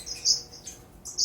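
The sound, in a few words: lavender finches chirping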